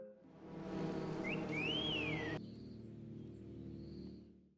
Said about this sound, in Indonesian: tiba-tiba saja ia mendengar suara siulan